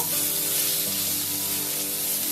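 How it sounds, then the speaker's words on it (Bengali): Eggplant fries in a pan with a steady, bright sizzle that stays loud and close, with no speech. "বেগুনটাকেও বেশি ভাজবো না হালকা পরি করে ভেজে নিব"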